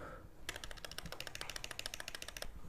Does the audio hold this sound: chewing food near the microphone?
no